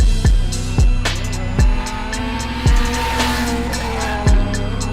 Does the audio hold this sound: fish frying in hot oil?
no